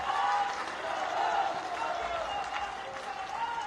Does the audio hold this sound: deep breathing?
no